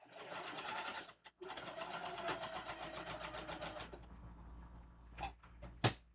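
Sewing machine back stitching a zigzag seam on a puffy Halloween tote bag, a close, rapid rhythmic stitching hum that runs for several seconds, with a brief stop and a few clunks near the end.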